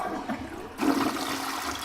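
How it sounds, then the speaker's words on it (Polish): A toilet flushes in the Toilet Simulator video game, a short rushing gush of water that surges loudly partway through, with no voices. "Spuszczamy wodę."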